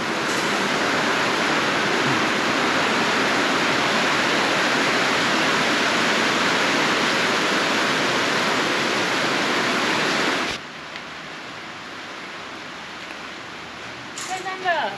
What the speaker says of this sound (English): now it is absolutely bucketing down